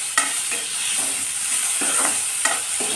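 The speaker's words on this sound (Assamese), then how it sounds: "এতিয়া এইখিনি আকৌ ভালদৰে লাৰি দিম।" Ridge gourd and tomato fish curry is stirred in a sizzling pan, a spoon scraping in several irregular strokes over a constant frying hiss, with no talking.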